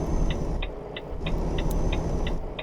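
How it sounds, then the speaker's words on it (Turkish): Renault truck engine in Euro Truck Simulator 2 with Promods, a loud steady low rumble close up, with a regular ticking indicator-like click repeating about every third of a second on top. "Renault'un sesi iyi bu arada. kükürüyor şu anda."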